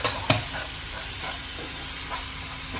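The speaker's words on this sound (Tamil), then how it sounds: "நம்ம டொமேட்டோ பியூரி போட்டதும் ஒரு 7 மினிட்ஸ் மட்டும் நல்லா வதக்கிக்கங்க" Tomato puree sautéing in a pan gives off a steady hissing sizzle, with a couple of sharp clacks from a utensil near the start.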